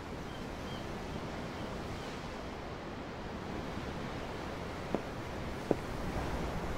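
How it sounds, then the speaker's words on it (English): Steady ocean surf in the Tales of Arise game world, a continuous soft wash of waves with a couple of faint clicks near the end and no one speaking. "The ocean? Yeah. The waves."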